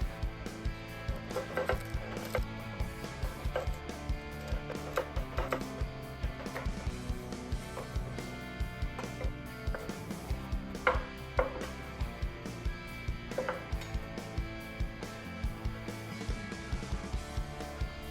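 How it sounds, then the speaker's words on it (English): Knife chopping a large celery stalk on a cutting board, a steady run of quick, close, crisp chops with brief pauses, continuing alone throughout. "After that, cut a large stalk of celery."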